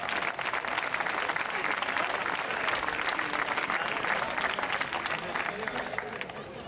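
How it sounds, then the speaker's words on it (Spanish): Loud, dense applause from a crowd as a rowing team is introduced at a regatta, continuous clapping with crowd murmur and voices mixed in throughout. "Fuerte aplauso."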